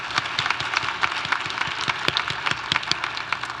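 An indoor audience at a university Asian student graduation celebration claps in a dense, continuous patter, moderately loud and steady for a few seconds with no voices.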